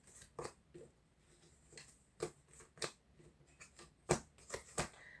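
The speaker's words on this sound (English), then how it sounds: "even the way that I shuffle my cards" Tarot cards being shuffled in short, crisp riffles and soft slaps, irregular bursts close by in a quiet room.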